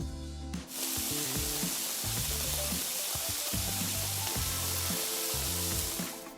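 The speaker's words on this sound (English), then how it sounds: "that's the sound of bacon on a frying pan that you hear in many famous movies where there's a rain scene." Bacon sizzling in a frying pan, standing in for movie rain: a dense, steady hiss of crackling fat with a low tonal bed beneath, starting after a brief quieter moment and continuing evenly throughout.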